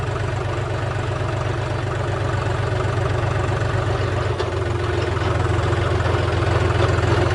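A tractor engine idles nearby with a steady, loud, low mechanical drone and a faint rhythmic throb that holds unchanged throughout, with no talk over it.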